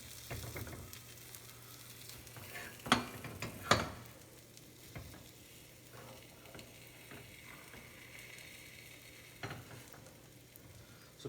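Beaten omelet eggs cook in a frying pan with a low, steady sizzle, broken by a couple of sharp utensil scrapes and taps near the start and one more later.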